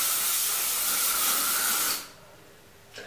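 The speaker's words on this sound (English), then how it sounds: "So now just sort of spray the whole section." A continuous hairspray aerosol hisses for about two seconds, then cuts off, followed by a short faint rustle.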